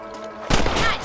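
A single loud gunshot from the Red Dead western video game cracks out midway, ringing into a short echoing tail after a quieter lead-in of low game ambience.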